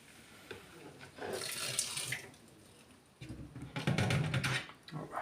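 Water rinsing out a small basin while doing laundry, splashing and pouring in two separate bursts, close and moderately loud, with quieter handling sounds between them.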